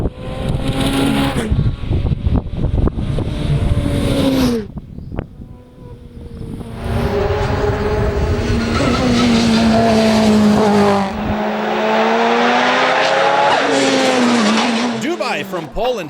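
A Ferrari 488 Challenge race car engine revs and shifts loudly through gears on a demanding Italian circuit, rising and falling tones with brief tire squeal, heard close and continuous with a commentator's voice over it.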